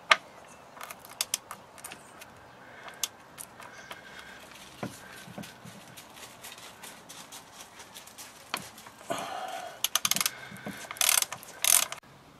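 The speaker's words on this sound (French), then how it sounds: "Alors je vais juste desserrer un petit peu ces écrous là. C'est du 17." A ratchet wrench loosens 17 mm nuts on the front axle of a Citroën Traction, giving irregular clicking bursts and mechanical clatter, louder and denser toward the end, close and with no speech.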